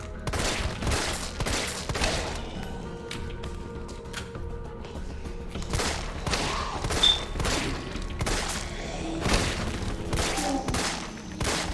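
Repeated gunshots fired in the Resident Evil 3 Remake video game, a loud run of sharp shots and double bursts with dull thumps between them, spread across a busy in-game background.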